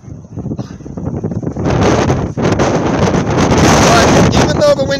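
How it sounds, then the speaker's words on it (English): Strong gusting wind of 20 to 33 mph buffets the microphone on an outdoor disc golf course, a loud roaring rumble that surges and drops for several seconds. "even though the wind is coming this way, it's wanting to go back that other way"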